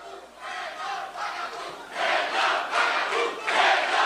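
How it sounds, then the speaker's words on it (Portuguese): A crowd at a political event chants "Renan Vagabundo" in loud, rhythmic unison, the shouted phrases repeating and rising in intensity over a few seconds. "É o que a plateia tá gritando, Renan Vagabundo."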